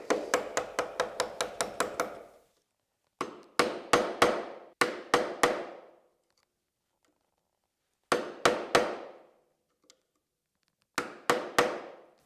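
Sharp mallet taps on a chisel while marking dovetails in wood, a rapid run of about eight strikes, then clusters of three or four evenly spaced blows separated by silent pauses, each crisp and close with a short ringing tail.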